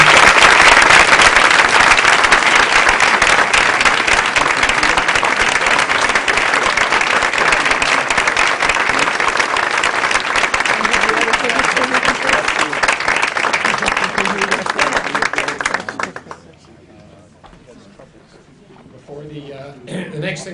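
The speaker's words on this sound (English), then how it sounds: "How about a big rousing round of applause?" A crowd at a high school fiftieth anniversary celebration gives a rousing round of applause, loud dense clapping sustained for about sixteen seconds before cutting off abruptly, followed by a quieter stretch with some speech.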